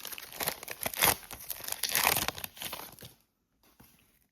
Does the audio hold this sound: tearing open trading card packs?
yes